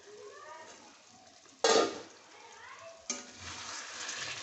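Spice paste for a bata fish curry being sautéed in a pan, a low sizzle with two loud scraping stirs and faint clinks, close, with no speech.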